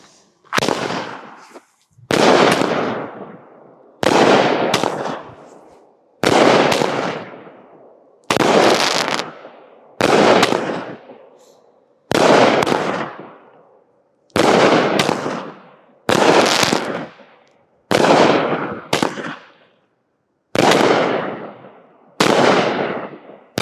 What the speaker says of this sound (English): Neon Nights by Powder Keg Fireworks.